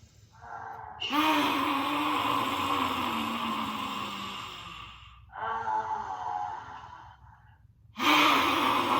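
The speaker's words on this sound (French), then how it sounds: "Inspire par le nez, expire par la bouche." Slow yoga breathing during a throat chakra session, air drawn in through the nose and pushed out through the mouth in long, loud, breathy exhalations, three separate breaths spread over several seconds, close and unaccompanied by talk.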